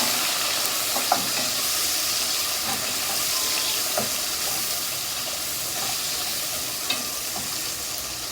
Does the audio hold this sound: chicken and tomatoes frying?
yes